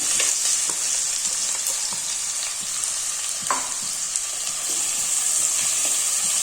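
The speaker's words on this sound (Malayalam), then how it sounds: "ഇതിലേക്ക് നമുക്കൊരു 3 വലിയ സവാള ചെറുതായിട്ട് അരിഞ്ഞെടുത്ത് കൊടുക്കാം." Three large finely chopped onions frying in hot oil for a chicken fry, making a loud, continuous close-up sizzle with scattered small pops and clicks.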